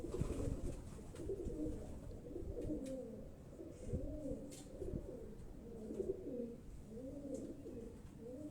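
Pigeons coo in soft, repeated rounded phrases at a steady rhythm, fairly close, with faint background noise and no talking.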